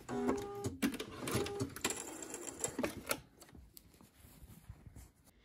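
Sewing machine running a gathering-style stitch along a sleeve to ease it into an armhole, with rapid mechanical clattering bursts up close, then a quieter stretch of light handling sounds.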